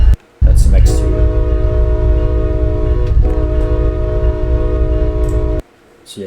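A train horn in the video game Train Sim World blares a long, steady, loud chord over deep rumbling, cutting off abruptly near the end.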